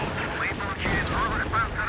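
Katyusha rocket artillery fires in Company of Heroes 2, a dense rumbling barrage with rising and falling whistling rocket whines, continuous and fairly loud, with some talk mixed in.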